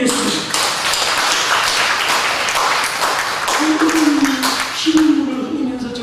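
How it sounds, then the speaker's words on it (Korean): A church congregation at a Sunday service claps together in sustained applause, a dense spatter of hands that runs on while a voice talks over it. "우리 참어머님 위해서 회개와 감사 박수 한번 드리겠습니다"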